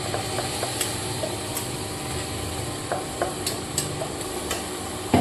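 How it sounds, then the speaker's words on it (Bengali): Chopped onion fries in a little oil in a pan, a steady close sizzle broken by scattered scraping and stirring clicks, with no talking over it. "অল্প তেলের মধ্যে বানাবো এটা, তার জন্য ওটা অ্যাড করে দিচ্ছি পেঁয়াজ কুচি।"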